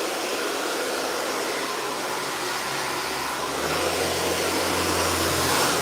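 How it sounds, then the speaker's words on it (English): An Elite Platinum Turbo blow dryer runs continuously in a hair salon with a loud, steady airy roar close to the microphone. Partway through, the motor tone shifts slightly lower and grows a little stronger. "So shout out to the Elite Platinum Turbo Blow Dryer."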